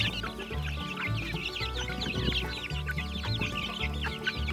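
Young chickens in a backyard flock cluck and peep continuously, several birds close together making busy overlapping calls with no talking.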